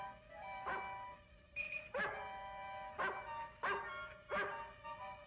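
A dog in an old black-and-white horror film barks over and over at an even pace, five or six sharp barks from close by, fairly quiet overall.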